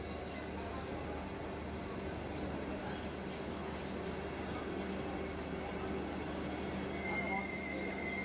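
Vande Bharat Express 22896 pulling into Puri station, a steady low rumble of railcars and faint high wheel squeal throughout, with a continuous station ambience and possible distant voices.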